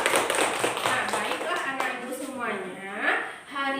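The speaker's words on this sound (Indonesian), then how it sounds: "ibu tepuk tangan untuk teman kita" Children in a classroom clapping for a classmate, a short patter of claps near the start under a teacher's voice, after which speech continues alone.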